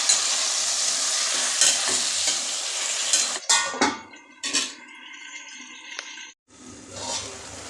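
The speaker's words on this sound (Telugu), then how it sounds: "ఈ చికెన్లో వాటర్ అంతా పోయే వరకు ఫ్రై చేయాలి." Chicken pieces seasoned with salt and black pepper spice fry in a pan, hissing strongly while a spoon stirs and clinks against the metal, then the sizzle drops to quieter patches with brief scraping.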